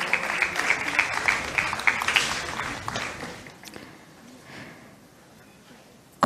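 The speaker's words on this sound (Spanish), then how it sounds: "Aplauso para nuestra banda sinfónica juvenil del Instituto Nacional de la Música." An audience applauds the youth symphonic band of Costa Rica's Instituto Nacional de la Música at a commemoration of the army's abolition. The dense clapping lasts about three seconds, then fades to a quiet room.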